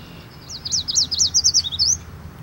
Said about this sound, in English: That's the song of the yellow warbler.